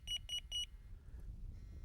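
A carp fishing bite alarm sounds three quick electronic beeps as the line is pulled, close and clear over a low background rumble, then falls quiet.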